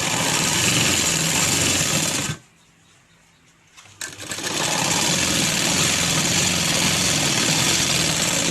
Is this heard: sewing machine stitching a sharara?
yes